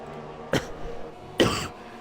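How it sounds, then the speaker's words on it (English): Two separate coughs, close and raspy, spaced about a second apart over a quiet background hum. "I have got a cough"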